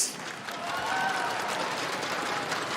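A crowd claps steadily in sustained applause after an esports semi-final, a dense wash of hand claps filling a large arena.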